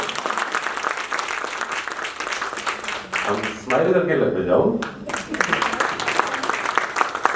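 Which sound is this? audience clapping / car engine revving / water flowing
audience clapping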